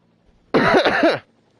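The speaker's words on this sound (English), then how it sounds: "Sorry if I keep coughing" A single close, harsh cough, short and throaty, breaking an otherwise quiet moment.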